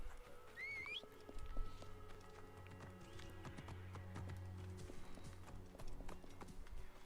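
In a video game, a horse's hooves clip-clop rapidly as it runs, a steady patter of hoofbeats under faint background music, with no talking over it.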